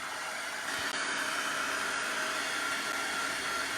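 A heat tool blowing steadily while drying mixed media paint, a continuous close, loud airy whoosh and hum that holds evenly throughout with no talk.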